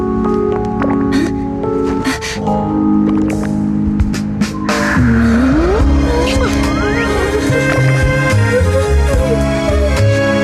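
A car engine revs and pulls away with a tire squeal, the motor rising and fading amid a busy layered mix.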